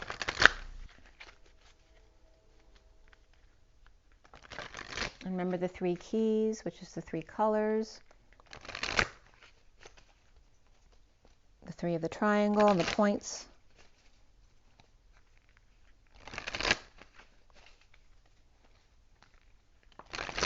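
Deck of gem oracle cards being shuffled in several short, soft bursts of riffling and sliding, separated by quiet gaps and a person speaking between them.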